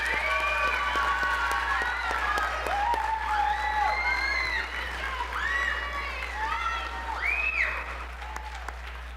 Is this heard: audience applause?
yes